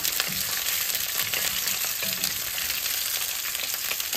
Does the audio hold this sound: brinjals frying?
yes